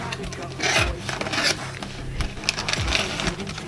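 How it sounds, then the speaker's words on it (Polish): Parkside gadget set being unpacked, a steady run of rustling, scraping packaging and rubbing handling sounds up close, with no talk. "Rozpakowujemy to sobie."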